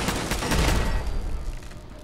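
Automated turret firing in Fallout 4, a sustained burst of rapid gunfire that fills the clip, loud and dense with no talking.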